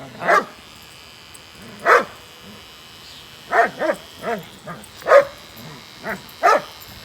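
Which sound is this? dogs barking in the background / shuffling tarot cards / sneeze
dogs barking in the background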